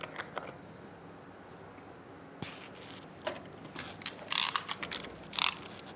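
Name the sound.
opening the cover of a Focus Athena Jet Plus DTG printer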